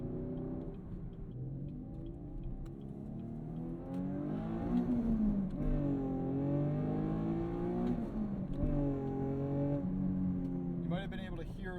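A modded V6 2019 Camaro 1LE accelerates hard from inside the cabin, its engine droning and climbing through the revs with pitch dips at each gear shift and a steady loud roar throughout, with someone talking over it.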